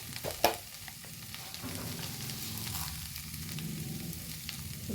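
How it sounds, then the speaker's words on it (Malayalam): Crushed chili frying in a pan for a drumstick-and-chicken stir-fry, an early sharp clack followed by a soft continuous sizzle with light stirring, close and quiet with no talking. "ലേശം ചതച്ച മുളക് ഇട്ട് കൊടുക്കാം ഒന്ന് ഇളക്കി കൊടുക്കാം"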